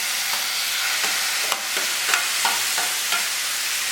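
Brinjal being stirred into a hot pan for baingan bharta, a steady, close frying hiss with light rhythmic scraping taps of a spoon every half second or so.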